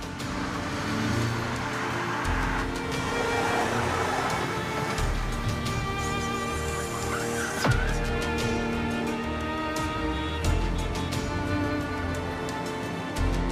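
A car drives along with a steady engine and road hum, overlaid by tonal music and scattered clicks and thumps, with a brief louder knock midway.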